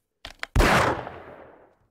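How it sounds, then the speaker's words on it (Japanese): A single loud gunshot fires as a race-start signal in the video game 7 Days to Die. Two small clicks come first, then a sharp crack that decays into a long ringing tail. "薬莢さんの銃声を合図にスタートとなります"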